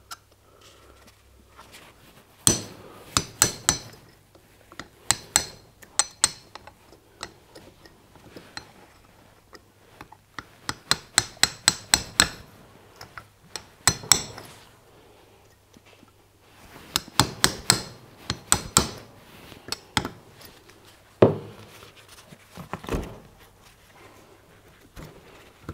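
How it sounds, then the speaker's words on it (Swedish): Bursts of sharp metallic taps from a small hammer knocking out brake parts on a Volvo 945, striking in quick clusters separated by short pauses, close and clear. "En liten hammare. Så bankar vi ut dem här."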